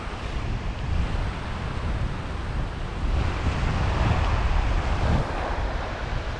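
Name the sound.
wind blowing on the beach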